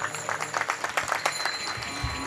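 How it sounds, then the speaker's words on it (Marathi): An audience claps along at a Marathi kirtan, a steady run of fairly quick rhythmic hand claps close by, with a voice faintly underneath. "टाळी वाजवा."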